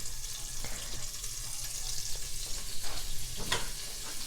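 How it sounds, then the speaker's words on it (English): About a tablespoon of butter melting in a soup pot for vegan lentil soup, a steady close hiss and gentle crackle with a few clinks near the end. "But about a tablespoon of butter into your pot."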